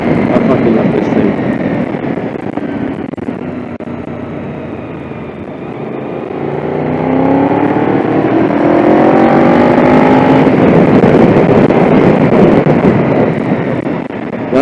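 Honda VFR750 motorcycle engine heard while riding on countryside roads, a continuous loud engine drone that rises and falls with revs, with heavy wind rush over it.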